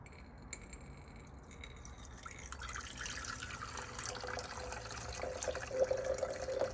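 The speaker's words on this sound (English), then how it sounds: "So let's pour off the liquid." Nitric acid liquid poured off during a gold refining job, a steady trickling stream that builds from quiet to a fuller pour with faint dripping, heard close and alone.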